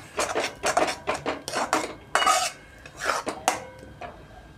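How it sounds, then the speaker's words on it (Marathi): Tomato puree is sautéed in oil for a cashew curry, heard as repeated scraping and clinking of a spoon against a metal pan in uneven strokes, with a faint sizzle beneath. "टोमॅटोला सुद्धा आपण कच्चेपणा कमी होईपर्यंत असं छान"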